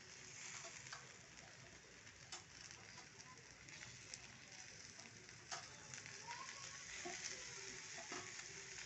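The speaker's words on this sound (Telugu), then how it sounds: "కొంచెం ఒక 5 నిమిషాలు వేగనివ్వాలి వీటిని" Chopped tomatoes and fenugreek leaves fry in a pan, giving a steady soft sizzle and crackle throughout with a few brief clicks of stirring, fairly quiet and close.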